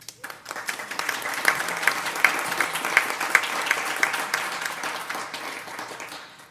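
An audience at a school board of education meeting applauds a staff appointment, steady moderate clapping from a room of people that swells and then slowly tapers off.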